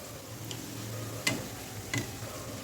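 A soft, steady sizzle of spicy puris deep-frying in oil in a kadai, with two brief sharp clicks partway through.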